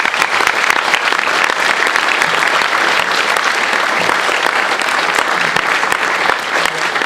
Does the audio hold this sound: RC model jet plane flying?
no